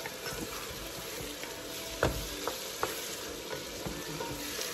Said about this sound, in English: Now we're frying all that together.